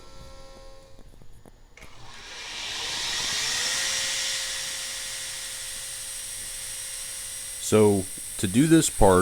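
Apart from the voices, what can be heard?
belt grinder with old 60 grit Cubitron belt grinding carbide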